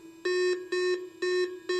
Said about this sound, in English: you're looking for a solid, repeatable beep